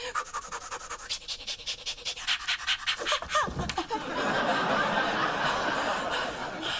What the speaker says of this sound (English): Lamaze is just a version of the Kundalini breath of fire